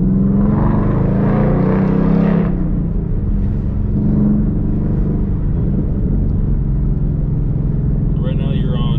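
Ford Mustang Bullitt V8 with its resonator deleted, a loud close engine drone and rumble that swells early, then settles to a steady roar, with people talking over it.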